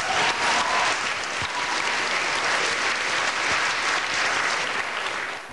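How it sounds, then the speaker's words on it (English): Audience gives Russell Brand a round of applause at Oxford University, loud sustained clapping filling the room evenly, with a couple of heavier thuds standing out before tapering slightly at the end. "so a round of applause."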